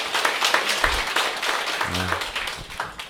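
Applause from an audience at a Korean business meeting or sales gathering, a dense patter of clapping lasting a few seconds with some voices mixed in.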